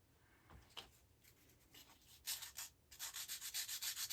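Pinball machine chips being cleaned by rubbing, a close scrubbing sound that begins faint and irregular, then turns into a loud, steady back-and-forth rhythm of quick strokes near the end.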